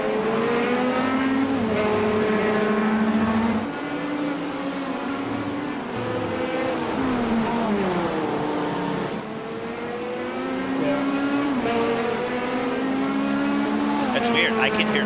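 A race car engine in iRacing's Daytona 24 Hours screams at high revs around 9,000 RPM, its pitch climbing and dropping with gear changes, steady and loud, with a voice talking over it.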